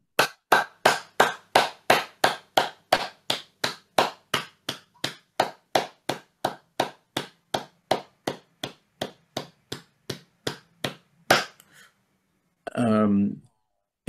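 A meditation gathering in London claps in unison, about thirty sharp, evenly spaced beats in a steady rhythm that stop abruptly, followed by a brief spoken voice.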